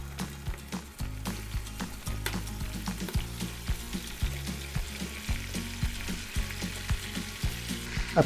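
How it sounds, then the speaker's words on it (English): Ground hamburger meat fries in very hot bacon grease inside a pot, giving a continuous loud sizzle with rhythmic low knocks and scrapes of stirring repeating every second or so. "I put the hamburger in the bacon grease"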